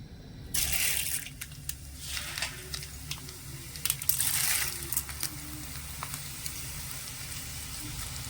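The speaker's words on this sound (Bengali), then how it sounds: "এখান থেকে অল্প অল্প করে দিয়ে আমি তেলের মধ্যে ছেড়ে দেব" Sago pearls are dropped into hot oil, setting off a sudden loud sizzle that keeps frying steadily, with a few scattered crackles and stir noises close by and no talk.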